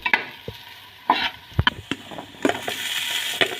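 Onion and green chillies frying in a pan for mint pulao, with intermittent stirring scrapes and a steady sizzle that builds toward the end, close and moderately loud with no talking.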